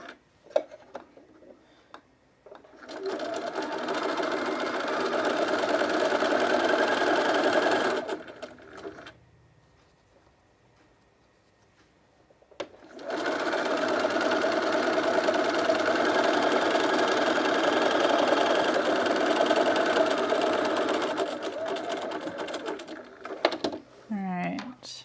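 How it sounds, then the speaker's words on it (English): A cover stitch sewing machine runs in two long bursts while sewing underwear, a steady close whirring hum with a brief pause between runs and soft handling noises around them. "this one's gonna get cover stitched"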